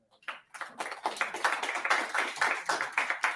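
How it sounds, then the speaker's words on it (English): A small audience at a web development and marketing talk gives a round of applause: sparse claps that build quickly into steady, close clapping lasting a few seconds. "Give them a round of applause."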